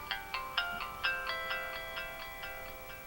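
A Samsung Intensity phone powers up, playing a short chiming startup melody of about a dozen evenly spaced bright tones, quiet and clean with nothing else audible.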